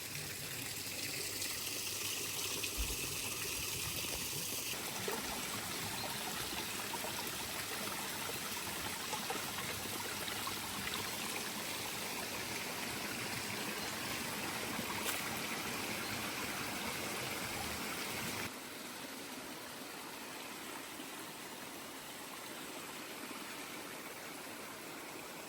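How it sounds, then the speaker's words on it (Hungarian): Thermal spring water runs steadily at a bath in Greece, a continuous broadband gush and trickle that keeps an even level throughout, with no voices over it. "ez a gyógyvíz itt Görögországban, és egyszerűen fantasztikus hangja van"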